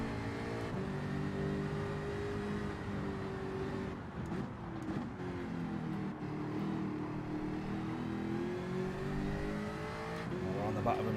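Jaguar Group 3 race car in Gran Turismo 7 holding a loud, steady engine drone with shifting pitch as it accelerates and lifts, under continuous talk throughout.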